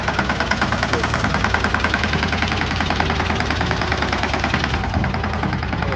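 A loaded tractor's engine runs steadily close by, with a rough, rhythmic chugging that holds for the whole stretch; faint voices sit in the background under the engine noise.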